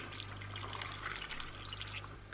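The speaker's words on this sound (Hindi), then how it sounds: "इसमें अभी पानी डालते हैं।" Water is poured into sambar with pumpkin, tomatoes and slit green chillies in a pressure cooker, making a faint, steady trickling splash for a couple of seconds.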